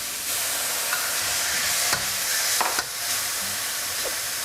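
Minced pork stir-frying in a hot pan with aromatics for a sataw and shrimp shrimp-paste stir-fry, a continuous loud hissing sizzle with sharp spatula scrapes and clacks now and then, near and alone.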